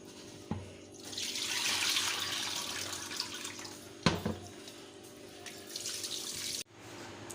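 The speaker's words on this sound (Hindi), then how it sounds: "ये देखिए 5-6 दफ़ा मैंने धो लिया है। ये देखिए अब इसमें पानी साफ़ हो गया।" Tap water runs steadily into a sink as raw beef is rinsed by hand, a close hiss broken by a couple of sharp knocks and a brief stop near the end.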